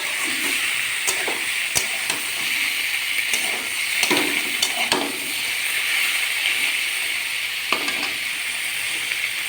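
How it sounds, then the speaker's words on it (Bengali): Spinach frying in a pan gives a steady bright sizzle throughout, with occasional sharp clicks and scrapes of stirring, close and moderately loud with no voices. "পালং শাকটা একটু ভাজা ভাজা মতন করবো।"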